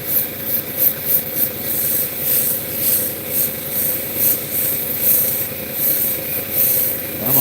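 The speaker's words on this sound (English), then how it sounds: "we're gonna just kind of finish with the 600 grit tonight" Rainbow obsidian is sanded with 600 grit abrasive, a close, steady rasping rub repeating in rhythmic strokes of about a second each.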